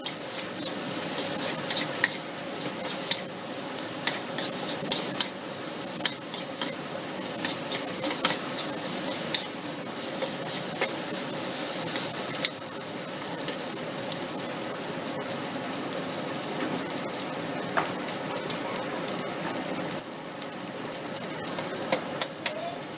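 Meat stir-frying with oyster sauce for fried rice gives a bright, continuous sizzle with frequent quick spatula scrapes and clatters, close and fairly loud throughout, with no talking heard.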